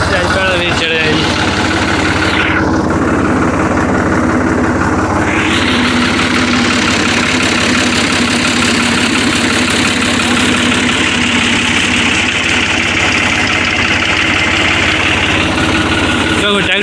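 A tractor idles in a peanut field, a steady loud low engine drone with a constant vibrating rumble lasting throughout, with a voice talking over it at the start.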